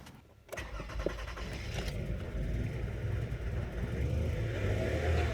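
A Toyota Sienna minivan engine cranks and catches after a short silence, then revs up and settles into a rising, rough running drone, heard close and alone.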